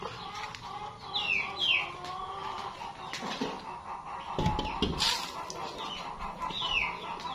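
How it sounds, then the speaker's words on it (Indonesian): Chickens cluck and squawk repeatedly nearby, with a rooster-like call and scattered rustling and flapping, no talk. "Itu kokak-kokok."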